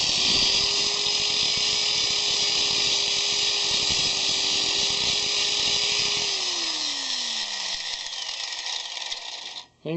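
A grinder works steadily against the beveled blade of pruning shears, a loud continuous whine that holds for several seconds before the motor pitch drops away as it spins down.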